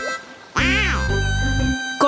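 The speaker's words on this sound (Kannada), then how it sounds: "ಚೂಚು ಮತ್ತೆ ಅಮ್ಮ ಮಲಾಡ್ ಡಕ್ ನ ನೋಡಿ ಖುಷಿ ಪಟ್ರು" A cartoon mallard duck at a park pond gives one loud, drawn-out quack with a buzzy, rasping tail, followed by a short sharp sound at the end. No one speaks.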